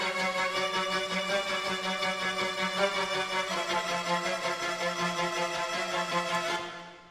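Violin playing rapid repeated semiquaver string motors heavy with effects, a steady pulsing ostinato of short bowed notes with a dense shimmering tail, fading out at the end without any talk.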